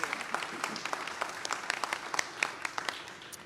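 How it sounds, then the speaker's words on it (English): Scattered, moderately sparse audience applause for child care leaders at a governor's event, with distinct individual claps standing out in an uneven rhythm that thins slightly toward the end. "Many of you, yeah, you should clap for them."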